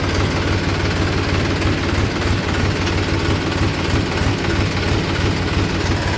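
A tractor engine idles steadily while parked in a rural farm setting, a continuous low, throbbing rumble with a faint knocking vibration, close and constant throughout with no talking.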